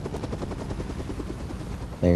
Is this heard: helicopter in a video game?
yes